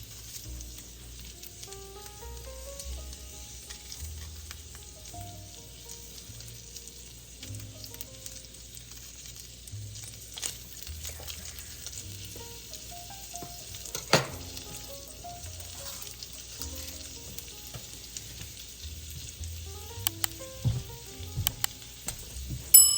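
Bacon frying in a pan on the stove gives a steady close sizzle with crackles and small pops building toward the end. There is no talking.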